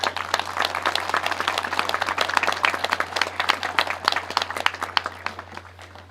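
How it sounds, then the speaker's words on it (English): A crowd applauds steadily at an outdoor 1916 commemoration in Ballyboy, with dense clapping that fades slightly toward the end over a constant low hum. "So a nice round of applause for Molly and Vera, please."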